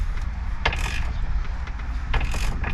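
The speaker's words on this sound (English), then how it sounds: "Take your ratchet, get yourself back in there, tighten it down" A ratchet tightens the steering wheel bolt on a Freightliner cabover truck: two quick bursts of close, crisp clicking, each a short rapid run of pawl ticks, over a low background hum.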